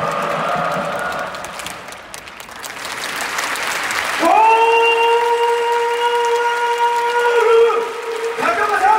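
Stadium crowd applauding during a retirement last-kick ceremony for Kawasaki Frontale's Yuto Takeoka: a broad, steady wash of clapping. Roughly halfway through, a sustained horn-like tone cuts in over it and holds for several seconds.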